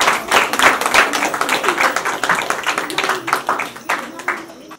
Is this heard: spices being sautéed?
no